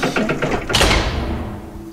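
In the dungeon game Legend of Grimrock, a key turns and a door mechanism unlocks: a few quick mechanical clicks, then a heavy grinding clunk that rings out and fades, loud and close.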